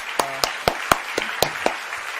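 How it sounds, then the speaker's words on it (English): A handful of sharp, separate claps spaced about a quarter second apart, thanking the accompanist at an opera gala audition final, sounding like a small audience or a few people clapping over a faint sustained tone. "Let's give a round of applause to the person accompanying you"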